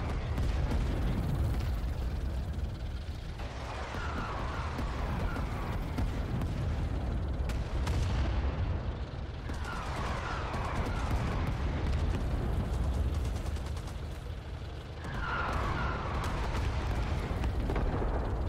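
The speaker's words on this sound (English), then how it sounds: "The artillery's like coming all around me" Artillery shells in the video game Rising Storm 2: Talvisota, a Winter War shooter, land as long booming rumbles that swell and fade in roughly three heavy waves, loud and sustained with no talk over them.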